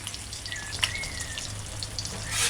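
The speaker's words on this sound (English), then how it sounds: "On this side, I am allowing it to fry 40 seconds." An egg fries in hot oil in a pan, giving a steady soft sizzle with faint crackles and a brief clink near the middle, alone without talk.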